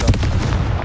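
A Confringo explosive spell fires in Hogwarts Legacy, a dense booming burst with a low rumbling body that stays loud and steady through its brief span.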